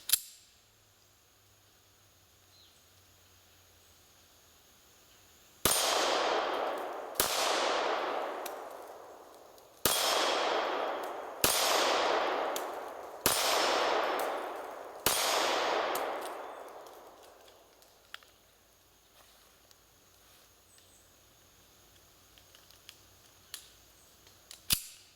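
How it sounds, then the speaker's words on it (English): Kahr PM9 pocket 9mm pistol fired at steel targets about 10 yards away: six sharp, loud shots, each followed by a ringing metallic clang that decays, in an irregular rhythm, then quiet outdoor ambience. "Let's see how I shoot them on steel."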